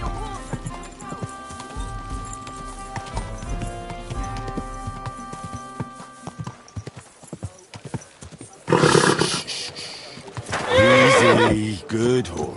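Horse whinnies and clopping hooves from the medieval video game Kingdom Come: Deliverance, loud bursts of neighing late on after softer in-game ambience and music.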